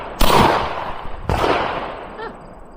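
A Mossberg shotgun loaded with birdshot fires twice outdoors, each shot a sharp loud blast about a second apart with a trailing echo, and no talk in between.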